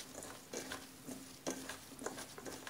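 Radish kkakdugi being tossed with chili powder, sugar, minced garlic and anchovy fish sauce, a faint wet squishing and soft patter of mixing in quick, irregular strokes, quiet and close with no talk.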